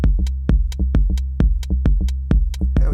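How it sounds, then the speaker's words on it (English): A synthesizer plays a steady hypnotic techno groove of eighth-note triplets, with regular punchy pulses carrying a sustained low tone and bright clicky tops, alone and close, ending in a short noisy burst. "8 triplet notes, which would sound like this."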